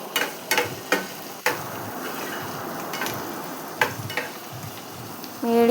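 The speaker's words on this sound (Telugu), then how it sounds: "అవి గోరు చిక్కుడు ఆయిల్లో ఫ్రై అవ్వాలండి" Cluster beans fry in oil over a medium flame. A steady hiss of frying carries occasional sharp clicks and scrapes of a stirring spoon, with a louder clatter at the end.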